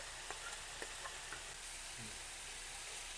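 Dried red chillies hit hot oil alongside ginger and green chillies for an egg and masoor dal dish, producing a steady, close, broadband sizzle with a few faint crackles and no talk.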